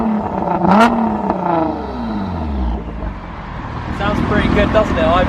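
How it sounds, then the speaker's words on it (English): A Nissan GT-R R35 with an ARMYTRIX exhaust and its valves open revs loudly, the engine note rising and falling in several blips with a deep rumble underneath, while someone talks over it. "now we're going to turn the valves on, which means that it's going to be straight through, no restrictions"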